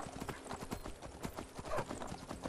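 A horse's hooves clip-clop in a quick, steady trotting rhythm in the Skyrim video game, close and clear, with a faint snort or whinny partway through.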